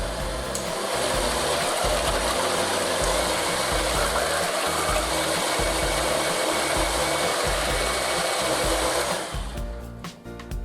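An electric mixer whirs loudly at high speed as it beats orchard pudding batter for toad in the hole. The motor drone holds steady and close before tapering off near the end.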